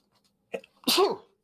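A single sharp sneeze, preceded by a quick intake of breath, close and loud in an otherwise quiet room.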